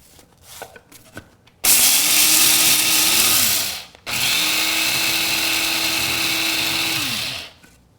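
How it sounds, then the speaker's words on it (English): A spice grinder grinding golden flax seed whirs loudly in two long bursts, each spinning up and then winding down, with a short pause between them. "about a cup of ground, which I will do over here in my spice grinder"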